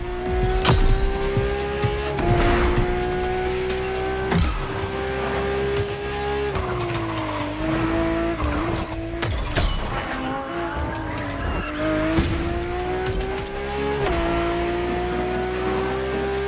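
A Ferrari F50 drives hard nearby, its engine note rising and dropping through repeated gear changes, with squealing tires and a loud, sustained mechanical roar throughout.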